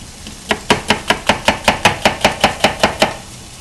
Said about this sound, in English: Finely minced red onion.